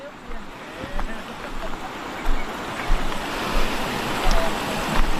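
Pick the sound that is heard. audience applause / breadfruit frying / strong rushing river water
strong rushing river water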